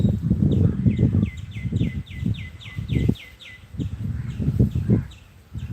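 Birds call over and over in a lively outdoor spot, their bright repeated chirps steady over a close, gusty rush of wind or rustling.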